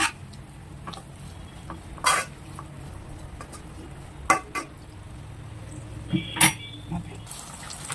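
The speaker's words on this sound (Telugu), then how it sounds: "ఈ చికెన్ని చక్కగా మనం కలుపుకోవాలి ఫ్లేమ్ ఎప్పుడు మీడియం ఫ్లేమ్లో పెట్టుకోవాలి" Chicken fries in a pan over a medium flame, a low steady sizzle broken by sharp scrapes and clinks as a spoon stirs the pieces, close and fairly quiet.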